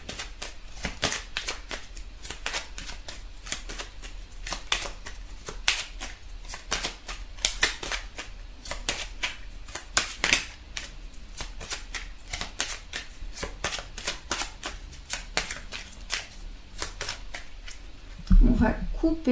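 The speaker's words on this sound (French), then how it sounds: "On va couper et on va prendre les cartes de la coupe." Tarot cards are shuffled and cut by hand, giving a rapid stream of crisp riffling flicks and slaps at close range, with a final sharper tap near the end.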